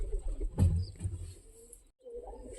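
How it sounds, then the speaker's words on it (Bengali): Pigeons cooing in a home pigeon loft where they nest and lay eggs, soft low coos rising and falling close by with a brief gap of near-silence before they resume. "দেখতে পাচ্ছেন এই সব কবুতর আমার"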